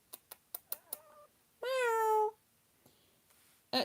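A cat meows once in a drawn-out, clear call, preceded by a quick series of sharp taps or clicks and followed by quiet room sound and a brief final noise, with no talking.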